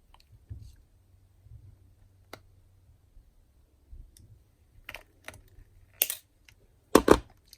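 Small snips cut a little metal jewellery chain for a scrapbook charm: a series of faint, close, sparse clicks, with a couple of louder crisp cuts near the end in a quiet room.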